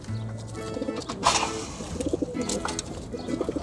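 Pigeons bought at a market coo up close, giving a few low, throaty rolling calls in succession, layered over faint rustling and other background bird chirps.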